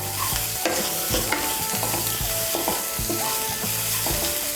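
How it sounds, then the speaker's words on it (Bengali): A spice paste mixed with salt for an egg mouri curry fries steadily in a pan with a constant close sizzle, while a spatula scrapes and stirs in a regular rhythm; no one speaks. "নুনটাকে মিশিয়ে নেব, মিশিয়ে নিয়ে মশলাটাকে আরেকটু কষিয়ে নেব।"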